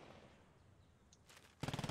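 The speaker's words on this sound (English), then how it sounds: "There's an MG-42. Where are they firing at?" An MG-42 machine gun opens up in the WWII video game Post Scriptum, a fast burst of rattling shots at the end after a quiet stretch and a faint earlier volley, with no talk.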